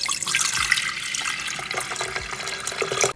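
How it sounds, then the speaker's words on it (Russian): Water pours into a new VITEK VT-7063 electric kettle, a steady close splashing and trickling stream that fills the whole moment with no voices. "Налили водички"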